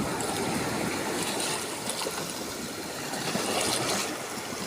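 Sea waves wash steadily over sand on a beach, a continuous close hiss and rush that swells slightly in places, with no voices.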